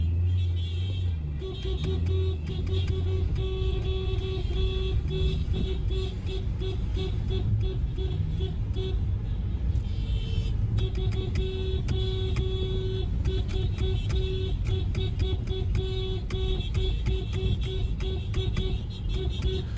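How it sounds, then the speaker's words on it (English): Busy city traffic with car horns honking repeatedly, short beeps scattered over a constant road rumble and engine noise. "So the whole city's just been honking all day, basically."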